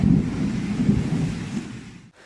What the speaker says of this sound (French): le bruit du tonnerre était très fort